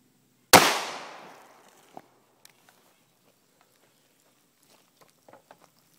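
A single sharp, loud 5.7x28mm FiveSeveN pistol shot fired from 10 feet into body armor, ringing out and decaying over about a second, followed by faint scattered clicks and small handling noises.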